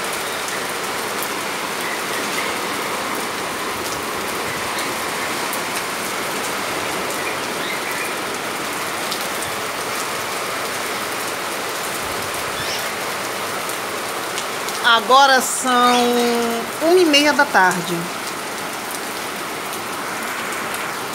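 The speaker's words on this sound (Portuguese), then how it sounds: "Chuva de verão!" Summer rain falls in a steady, dense patter on surfaces nearby, an even wash of drops throughout, with someone speaking briefly over it toward the end.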